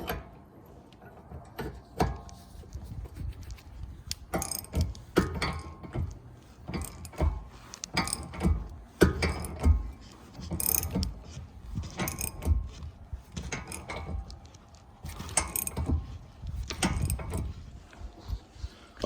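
A bolt being tightened to press a solid rear knuckle bearing into a 10th-generation Honda Civic, with repeated close ratcheting clicks and mechanical creaks in bursts over a low background.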